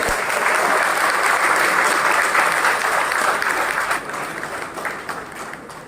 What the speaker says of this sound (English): Shall we all welcome her with a long round of applause?